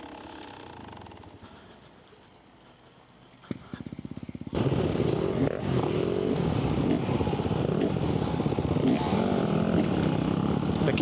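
Dirt bike engines idling and revving on the race start grid at an eight-hour event in New South Wales, quiet at first, then a sudden loud, steady roar of many engines close by.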